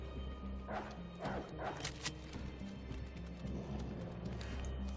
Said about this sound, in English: Resident Evil dogs, not actually dogs.